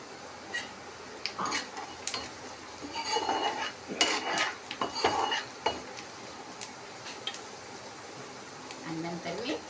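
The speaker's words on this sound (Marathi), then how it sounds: "छान परतवून घेतले सगळे मी." Mustard seeds, cumin and turmeric sautéing in a pan for poha, soft sizzling under repeated scraping and stirring clinks of a spoon against the pan, close by, with a voice speaking at times.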